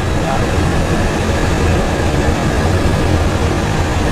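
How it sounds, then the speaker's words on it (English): Steady loud engine drone from a tow plane pulling a glider on aerotow over Bicester, a continuous broadband roar filling the cabin with no breaks. "There's an airplane in front of us."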